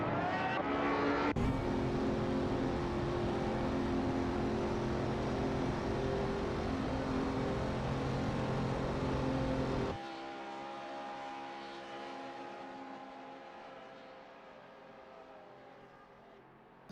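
Video game race cars, including a Pagani Huayra BC and a B Engineering Adonis, engines droning loudly together for about ten seconds, then dropping to a fainter, thinner engine whine that fades out.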